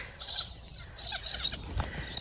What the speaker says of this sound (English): The birds are singing as much as they were in the last video.